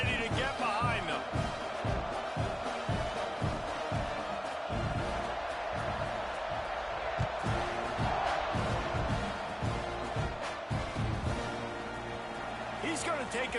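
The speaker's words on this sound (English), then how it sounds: "Set to kick it off, and this crowd now ready to get behind them." Football stadium crowd at an Ole Miss Rebels game roaring steadily as the teams line up for kickoff, a dense, sustained wash of cheering with a commentator talking over it.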